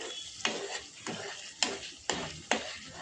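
Curry simmers and reduces in a pan while a spoon stirs it in five regular, scraping strokes over a soft, steady sizzle, close and clear with no talking.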